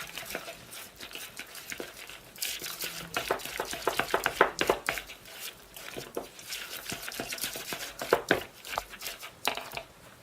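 Cupcake icing being mixed with blue food colouring in a bowl, close irregular scraping and tapping strokes of a utensil, louder bursts in the middle, with no talking.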